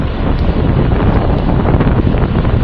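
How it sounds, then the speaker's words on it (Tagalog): Strong outdoor wind buffeting a microphone at Causeway Bay, a steady loud roar of rumbling gusts that never lets up, with no talking. "Tinatangay din yung pole ko ng hangin. Sobrang hangin."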